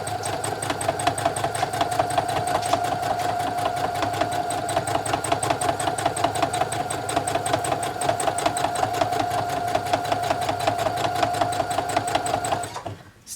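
A sewing machine quilting a Christmas quilt runs in a steady, fast stitching rhythm close up for about thirteen seconds, then stops abruptly at the end.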